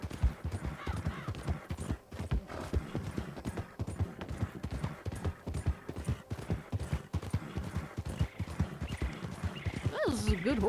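Horse hooves clip-clop in a brisk, steady rhythm in Red Dead Redemption 2, close and fairly loud, with a whinny rising near the end.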